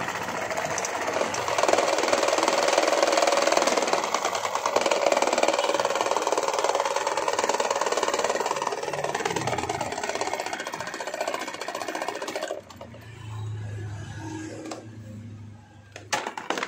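A homemade electric fan with propeller blades whirs and rattles steadily as it wobbles, a loud, close, continuous drone that cuts off after about twelve seconds and leaves a low hum.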